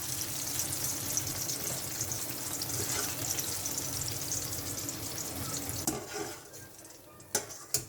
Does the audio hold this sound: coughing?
no